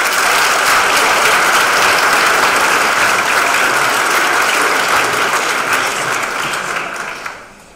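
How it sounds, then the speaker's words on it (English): Audience applause for speaker Kieran McGeeney as he walks on stage: loud, dense, sustained clapping from a crowd that holds steady, then thins and fades out at the end. "Please give a huge round of applause to Kieran McGeeney!"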